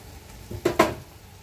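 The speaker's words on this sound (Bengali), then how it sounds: "তো চলো একটু ভালোভাবে নেড়ে চেড়ে যতক্ষণ না গাঢ় হয়" A spoon stirs condensed milk in a pan as it cooks down and thickens, giving two quick, soft scraping strokes close by against a quiet background with no talk.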